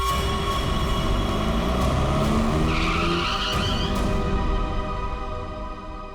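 A car skids to a sudden stop in the middle of a road during a tense crime drama scene, a loud, sustained tyre screech over roaring engine noise that fades toward the end.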